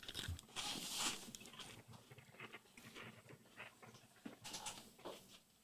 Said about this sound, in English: It's the sound of chewing.